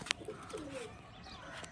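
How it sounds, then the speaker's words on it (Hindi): A pigeon coos softly in a short, low, gentle call, with a quick chirp and faint outdoor noise around it; the birds belong to a loft of flying (parwazi) pigeons. "अभी अपना एक प्रवासी कबूतर फिर रहा है"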